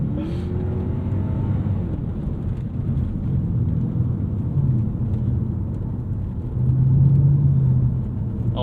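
A 2001 Lexus GS 430 V8 rumbles steadily from inside the cabin as it drifts with the tail out under trail braking, a low engine drone with a deeper, louder swell near the end.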